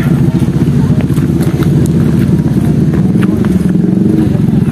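Steady drone of many motorcycle engines near a busy parking area in San Mateo, Rizal, with a constant mid-pitched rumble, faint clatter and occasional revving, and voices talking faintly underneath.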